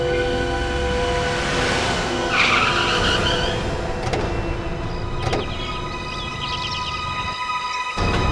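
A car in trouble skids, its tires squealing in a long sustained screech over a steady engine drone, loud and close, with brief sharp transients partway through.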